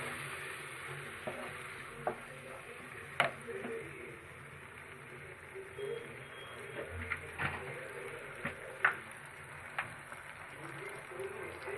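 Tomato puree sizzles and is stirred in a pan while cooking malai matar, a low, steady frying hiss broken by scattered clicks and scrapes from a spoon, fairly quiet throughout.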